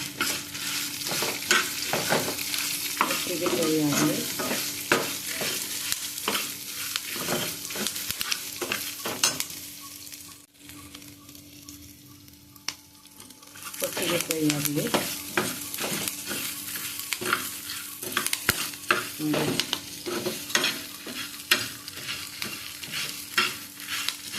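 Garam masala, curry leaves and onion sizzle in hot oil as a tempering for Tulunadu-style mushroom curry. Close, crackling frying with stirring scrapes, quieting briefly midway before resuming just as busily.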